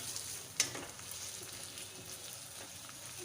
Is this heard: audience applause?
no